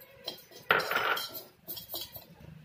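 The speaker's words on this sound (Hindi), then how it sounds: "अब जीरे को भून लेंगे।" Cumin seeds dry-roasting in a pan while a spoon stirs them, producing close metallic scrapes and clinks in short, uneven bursts.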